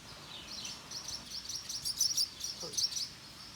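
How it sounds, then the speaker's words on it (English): Small birds chirp near a cave, with light, quick tweets that come in bursts over a quiet background and grow busier toward the middle before easing off. "Those aren't bats. Those are regular birds."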